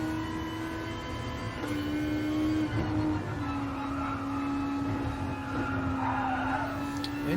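Turbocharged car engine revs up at a distance, a sustained droning pitch that steps and climbs in tone, with no talking.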